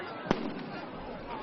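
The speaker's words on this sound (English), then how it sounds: "judging by the array of fireworks being set off on the banks of the Heilongjiang" Fireworks are set off on the banks of the Heilongjiang river, with two sharp bangs over a steady crackling roar outdoors.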